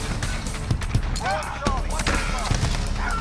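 Model 680 gun in a video game firing several sharp shots in irregular succession, punchy and close, with other game effects around them.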